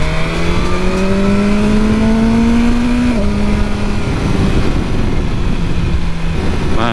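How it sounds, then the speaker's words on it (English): A 2022 BMW S1000R motorcycle accelerates hard with a loud, continuous engine note that climbs steadily in pitch, drops briefly at a gear change about halfway through, then pulls on again, with no talk. "Man, this bike just picks up speed so easy."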